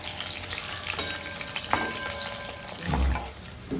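Squid pakoras frying in hot oil, a steady close sizzle and crackle with a brief louder bubbling burst near the end, no talking.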